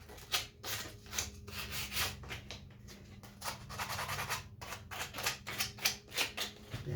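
Hand sanding of a wood carving in a workshop: repeated rhythmic rubbing strokes of abrasive on wood, close and steady, with a low background hum beneath.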